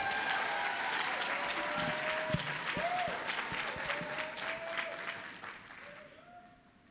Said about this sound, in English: give Roriana another round of applause